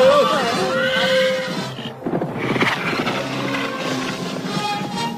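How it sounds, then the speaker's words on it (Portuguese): The fire horse in a Thundercats cartoon lets out a loud, wavering neigh, followed by roaring and busy action sounds as characters speak. "Olha, é o cavalo de fogo."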